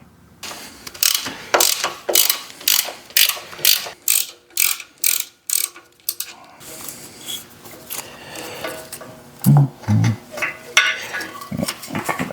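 Ratchet wrench work on a bolt of a 1986 Honda Rebel 450 engine during teardown, loud close rhythmic clicking strokes in repeated bursts, then looser metallic rattles and clinks as the bolt frees.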